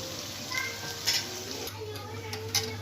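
Onions fry in oil for Egyptian koshari, a continuous close sizzle with faint light clinks of a utensil against the pan now and then.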